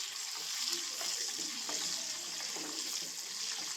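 Chicken frying with curry leaves, pepper and cumin while being stirred in the pan, a continuous bubbling sizzle with soft scraping stirs and wet spatter, moderately loud and steady.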